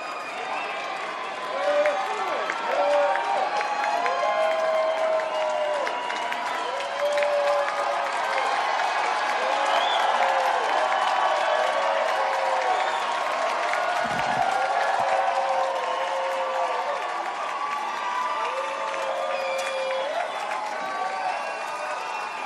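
A large crowd at a 2020 election night rally cheers and applauds steadily, a dense, continuous roar of clapping and shouts that never lets up, with a voice over the top.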